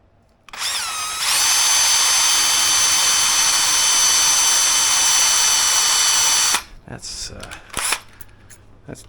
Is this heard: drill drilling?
yes